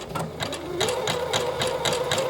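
A sewing machine stitches through a coiled rope cord in a rapid, even mechanical chatter with regular needle beats, close and continuous for a couple of seconds.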